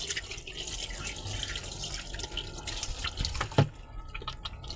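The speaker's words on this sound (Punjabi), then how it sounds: "ਆਪਾਂ ਸਿੰਪਲ ਪਾਣੀ ਪਾਉਣਾ ਸ਼ੁਰੂ ਕਰਤਾ ਮਸ਼ੀਨ ਦੇ ਵਿੱਚ" Water runs and splashes into a washing machine drum with detergent, for washing towels, a steady trickling flow with a few drips and a small clunk.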